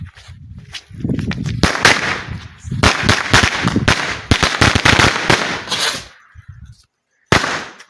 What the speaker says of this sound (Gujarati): સવાર સવારમાં એ ફટાકડો ફોડી નાખીએ આપણે